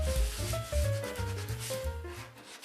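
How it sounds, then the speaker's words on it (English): Medium grit sandpaper is rubbed by hand over a countertop in quick back-and-forth strokes, a close, rhythmic rasping scrub with no talking. "I used some medium grit sandpaper to take out the coarse sanding and file marks and scratches."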